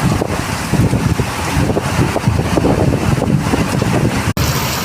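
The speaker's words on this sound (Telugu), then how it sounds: "డిప్రెషన్ దుమ్ము లేపుతున్న వాన" Heavy rain driven by strong wind from a depression, the first rain since summer began, roaring loudly and continuously close by, with low gusty rumble buffeting the microphone throughout.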